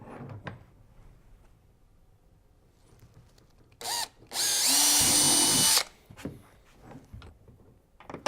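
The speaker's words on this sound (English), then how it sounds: "before you drill these holes" A power drill whirs through holes in a Hobie Outback kayak while an adjustable H bar is fitted, with a short burst followed by a longer loud run of over a second, and quieter clicks and handling noises around them.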